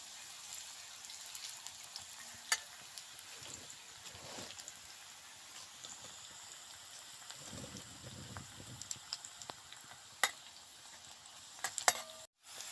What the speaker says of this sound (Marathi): कांद्याला असा लालसर रंग येईपर्यंत कांदा असा परतून घ्यायचा आहे.